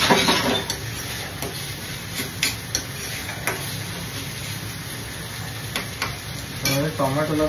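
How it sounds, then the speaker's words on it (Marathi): Tomatoes fry for egg burji, with a steady sizzle in the pan and intermittent scraping taps from stirring. There are sharper clinks near the end. "टोमॅटोला पण जरा फ्राय होऊ दे मस्त."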